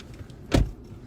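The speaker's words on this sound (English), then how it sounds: "I'm going to apologize for some noise you're going to hear. My husband's getting in the car." Someone climbing into a car makes a brief, soft thump and rustle against low background noise, with no talking.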